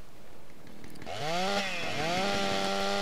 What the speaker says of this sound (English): the chainsaw is just fucking good at everything